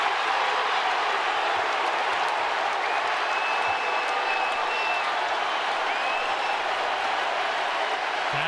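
A basketball arena crowd at a Tennessee vs Vanderbilt game roars and applauds in a dense, continuous wash of noise after a player's fifth foul, loud and sustained throughout.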